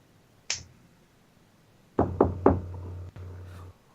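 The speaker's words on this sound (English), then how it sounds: "Like, give me a knock." Knocking on a door in a tabletop role-play session: one sharp rap, a pause, then three quick raps, then one more followed by a lingering low resonance, close and distinct with no talking.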